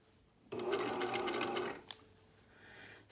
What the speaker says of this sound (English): I'm just lining up that edge of the presser foot with the seam line, and I'm going to just stitch.